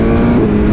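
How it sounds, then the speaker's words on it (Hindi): A superbike in sports mode with full power unlocked roars hard under acceleration, a loud, steady, close engine and wind rush over a short stretch. "इस टाइम मैंने पूरी टोटली पूरी पावर खोल दी है बाइक की, डायनामिक कर दिया और स्पोर्ट्स मोड कर दिया"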